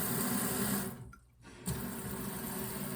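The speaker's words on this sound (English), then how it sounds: "So I'm gonna now run some lukewarm water" Steady rushing of lukewarm tap water running into a sink, briefly dipping quieter before resuming at full flow.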